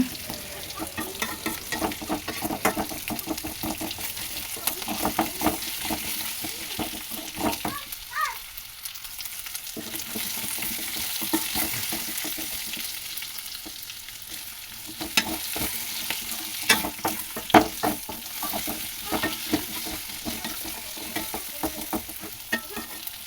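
A continuous sizzle of food frying for mango chutney, with frequent scraping and clinking as a utensil stirs the pan, close and fairly loud, no talking.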